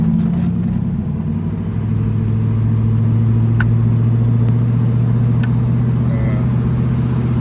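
Oldsmobile 442 Cutlass cruising down a gravel road in the country, a steady low engine drone with constant tire and road rumble throughout.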